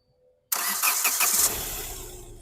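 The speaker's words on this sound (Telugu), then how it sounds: "సార్ ఇంజన్ కూడా స్టార్ట్ చేసి ఎలా ఉందనేది వినిపిస్తాను" After near silence, a 2016 Hyundai Creta 1.6 SX(O) cranks briefly and fires up loudly at close range, then settles into a smooth, steady idle.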